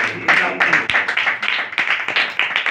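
Hand clapping for Haris from a small group at a religious talk on the birth of Jesus Christ, a burst of uneven claps running throughout, fairly close, with some voice mixed in.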